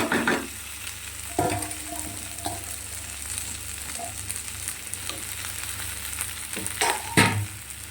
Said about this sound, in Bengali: ক্যাপসিকাম আর পেঁয়াজ যেটা ভেজে রেখেছিলাম আগে থেকে সেটা দিয়ে দিলাম